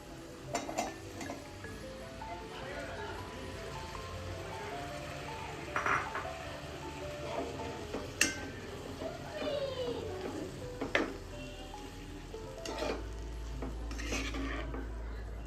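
Tomatoes frying and being stirred in a pan while cooking egg bhurji, with clinks of a utensil against the pan, a steady low sizzle, and occasional louder knocks throughout.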